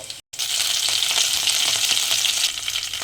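A tempering of cumin, grated ginger, chopped green chili and curry leaves fries in hot oil for sabudana khichdi, giving a loud, steady close sizzle after a brief gap near the start.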